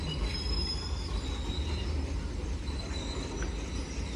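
A train rolls into a station with steady rumbling and high metallic wheel squeal, continuous and fairly close, with no voices.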